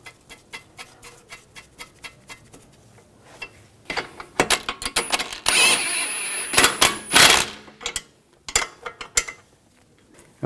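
A ratchet tightens the nut onto a front shock bolt on a 2004-2009 Audi A4 Quattro: a steady run of close, light clicks, then several louder, denser bursts of ratcheting and metallic handling.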